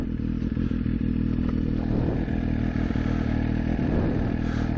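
A motorcycle engine idles steadily while warming up before riding off in cold weather, a low, even, rumbling putter with a faint mechanical clatter, close by and continuous, with no talking.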